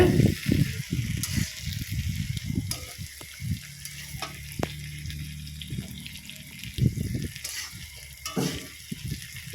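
Potatoes and eggplant cook in a pan while being stirred, giving a steady frying sizzle broken by repeated scraping and clattering strokes, close and fairly loud, with no talking.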